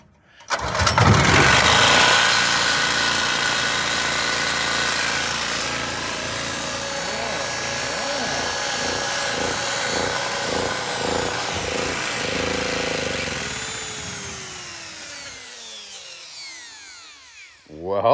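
A Champion portable generator salvaged from a dump cranks, catches and settles into a steady, loud running drone close by, then cuts out at the end; a voice speaks briefly over it.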